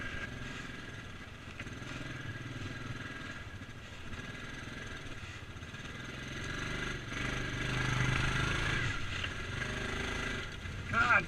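A Yamaha Grizzly 700 four-wheeler ATV is being ridden, its engine a steady rumbling drone that swells slightly midway, with people talking over it.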